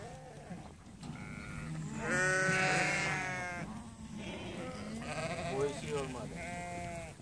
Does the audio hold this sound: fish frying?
no